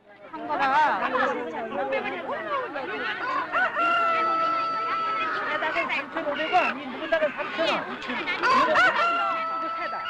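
A rooster crows repeatedly amid a busy outdoor market-day crowd in Jeju, with hens clucking and people chattering in the background.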